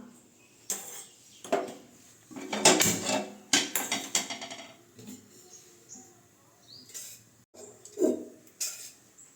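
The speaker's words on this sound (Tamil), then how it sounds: "ஒரு அடிக்கனமான பாத்திரம் வச்சு அடுப்பத்தை வச்சுக்கலாம்" A heavy-bottomed metal pan clanks and scrapes several times against a stove, a few sharp knocks with quiet gaps between, no voices.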